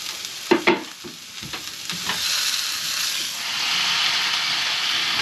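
Carrots, cabbage and green beans hitting a hot pan on a sailing boat in Indonesia: a few sharp clatters as they go in, then a loud, steady hissing sizzle that builds and holds.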